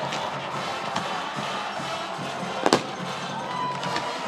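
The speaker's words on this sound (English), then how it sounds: "the fireworks going off here in Stevensville." Fireworks burst after a high school football game in Stevensville, Lakeshore vs Portage Central. Soft, distant pops come at intervals over a faint crowd murmur, then one sharper, louder double bang stands out midway.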